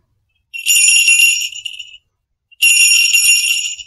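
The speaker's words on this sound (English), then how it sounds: "The jingle bell makes a great doorbell for the lions." A jingle bell hung on a string by a door rings twice as a doorbell, two bright tinkling bursts about a second each separated by a short pause, close and clear with no voices.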